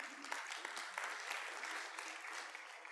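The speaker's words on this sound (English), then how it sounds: "Oh, you can clap." An audience at a conference talk claps together, steady, even applause from many hands with no voices.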